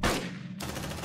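Gunfire in the video game Aliens: Dark Descent, a short loud burst of rapid shots with a brief dip partway through.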